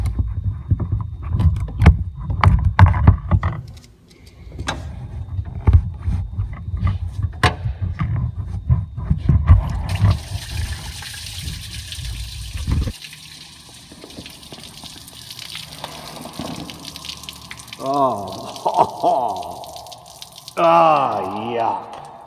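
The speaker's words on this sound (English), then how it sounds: "I'm going to pull the lower hose off here and try to flush some of this yuck out of here" Old, foul coolant gushes and splashes out of a car radiator's lower hose after it is pulled off during a stop-leak flush, a steady watery rush for the first half, then quieter trickling with short bursts of voice.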